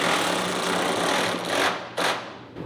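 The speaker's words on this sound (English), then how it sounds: "if I reverse the drill and go backwards, I can go back to that seam" A power drill whines steadily at high speed, briefly cutting out near the end before spinning up again.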